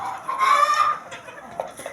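A tailless hen clucks in a short burst of close, fairly loud calls that trail off into a couple of softer clucks, with no voices.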